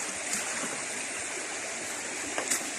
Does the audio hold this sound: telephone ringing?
no